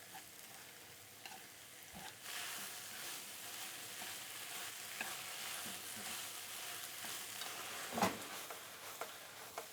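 A seasoned omurice filling is stir-fried in a pan over raised heat, giving a quiet, continuous sizzle with occasional stirring taps and one sharper clack near the end, all fairly faint and without talking.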